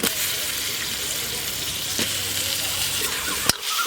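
Steady, loud sizzling of eggplant frying in hot oil, with a brief clink of a utensil against the pan near the end.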